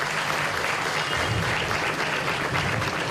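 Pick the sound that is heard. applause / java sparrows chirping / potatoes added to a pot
applause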